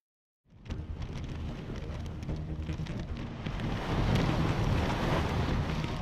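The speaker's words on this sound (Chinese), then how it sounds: "热带风暴圆规正式登陆香港，昨晚港岛东部地区惊涛拍岸" Tropical storm Kompasu lashing the eastern Hong Kong Island coast, with strong wind buffeting the microphone and roaring surf crashing ashore, rising louder midway and sustained to the end, no talk.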